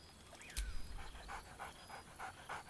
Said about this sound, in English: barks merrily in something like agreement